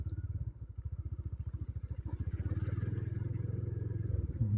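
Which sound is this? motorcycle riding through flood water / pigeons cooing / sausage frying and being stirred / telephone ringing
motorcycle riding through flood water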